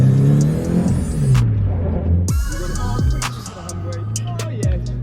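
Stock Nissan 350Z street car sliding through a handbrake drift, engine note revving and sweeping up and down with loud rumbling throughout, sharp squeals and bursts of tire noise mid-run, close and continuous.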